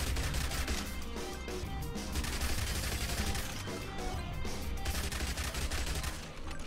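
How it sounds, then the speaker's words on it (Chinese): Rapid submachine gun fire in the zombie survival game Yet Another Zombie Survivors, a dense continuous rattle of shots layered over game effects and music, loud and unbroken. "所以我们手枪现在变成冲锋枪"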